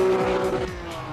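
A sports car engine in the video game Assetto Corsa revs up close with a steady high whine that fades slightly as it pulls away, brief and loud.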